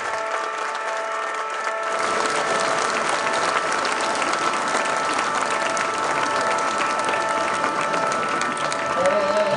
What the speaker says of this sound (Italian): Ascoltate l'applauso che lo accoglie